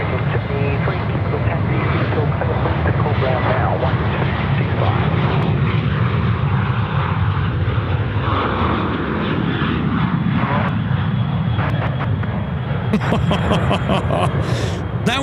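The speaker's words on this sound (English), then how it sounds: "Qantas 737 now departing runway 34 right." A Qantas Boeing 737 roars steadily through its takeoff roll and climb from runway 34 right at Sydney Airport, a loud, sustained engine rumble filling the whole span with people talking over it.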